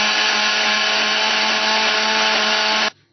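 Mixer grinder whirring loudly as it grinds curry masala with tomato puree, a steady high motor drone held for almost three seconds before cutting off abruptly.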